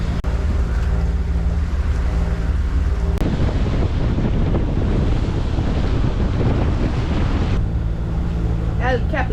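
Strong wind buffets the microphone on a cruising sailboat motoring into a 15-knot headwind off Fiji, with waves and water rushing loudly throughout and a brief shift in the noise midway, no talk.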